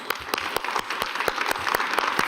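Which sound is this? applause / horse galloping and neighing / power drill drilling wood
applause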